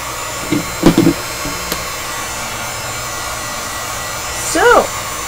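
A heat gun warming wax, a steady loud airy blowing hum that runs throughout, with a few brief vocal bursts and knocks over it.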